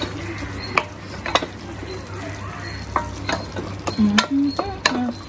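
Masala being stirred and sautéed in a cooking pan, with a steady low sizzle and sharp clinks of a spoon scraping the pan in irregular bursts, close and moderately loud.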